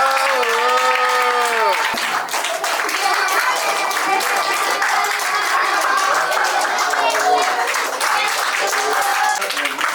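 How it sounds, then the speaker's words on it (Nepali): Guests at an engagement ceremony clap steadily through a gift exchange, dense applause from a nearby crowd, with a voice talking over the start. "कस्तो छ भने यो गिफ्ट दिँदै गर्दा पनि हामी ताली बजाउँछौँ।"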